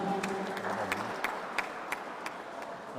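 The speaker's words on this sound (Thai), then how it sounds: "ขอเสียงปรบมือให้นักกีฬาทั้งสองทีมครับ" A crowd applauds the players after a mixed-doubles teqball exhibition match in Chonburi. The clapping is moderately faint and scattered, with a few crisp claps standing out over a murmuring background.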